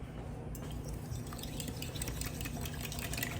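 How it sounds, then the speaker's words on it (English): Eggs are whisked in a bowl in a fast, steady run of soft, wet clicking, close and faint, continuing without a break. "I'm gonna go ahead and whisk these together to make sure the egg gets really good and blended"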